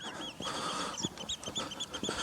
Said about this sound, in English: So I've got loads of oyster catchers, curlews, and loads of other type of birds.